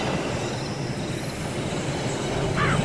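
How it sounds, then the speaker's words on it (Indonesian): A train rolls through a station in the Indonesian video game No Way Home Indonesia, a steady, continuous rumble of wheels and carriages with no talking over it. "Ada kereta cuy yang mana?"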